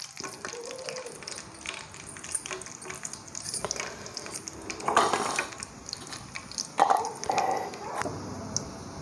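Cumin seeds frying in oil for lemon pickle, a low steady sizzle with stirring scrapes and a few louder clinks of the pan, no talk.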